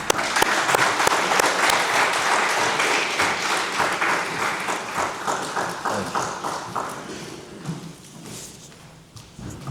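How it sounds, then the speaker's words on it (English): An audience at a live talk event in Birmingham gives a round of applause, loud dense clapping that gradually thins out into scattered individual claps as it fades. "Give them a round of applause for them."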